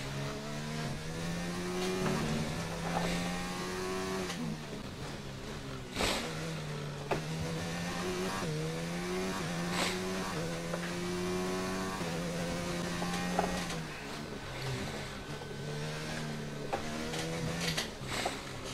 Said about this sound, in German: Aber wahrscheinlich hat der Motor nicht ganz so rund zu laufen, wie er sollte.